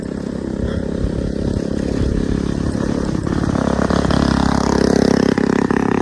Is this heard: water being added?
no